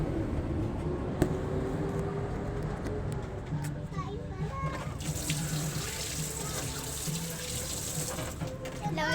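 Tap water runs steadily into a sink as hands are washed near a beach, with children's voices and chatter mixed in over the constant splashing flow.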